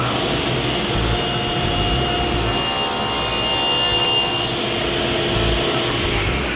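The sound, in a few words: sawing a rip cut in wood for a floating shelf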